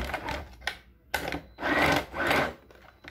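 Sewing machine stitching a shirt from armhole to hipline, short bursts of whirring needle motion separated by pauses, close and fairly loud, with no speech.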